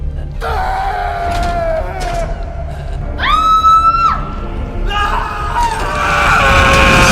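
James Sunderland screaming in Silent Hill 2, a loud anguished male yell that rises and breaks into strained cries over several seconds, close and intense, with game sounds underneath.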